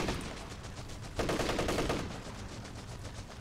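Rapid machine-gun and rifle fire in Company of Heroes 3, a continuous rattling burst that swells louder midway, then settles into steady crackling bursts under general battle ambience.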